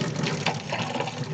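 Boiling water from a kettle just off the stove pours steadily onto a damaged foam wing part of an E-flite Radian model plane, a close, continuous splashing gush with no talking.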